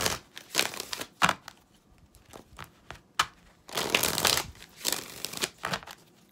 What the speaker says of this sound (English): why are these cards not trying to shuffle?